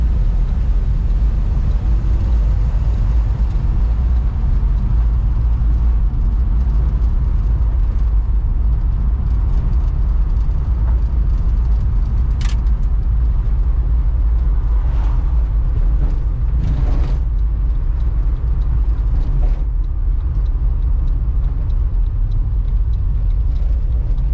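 A 1968 Chrysler VE Valiant car pulls away from a standing start, its engine a loud, steady low rumble that holds throughout with faint rattles and clicks.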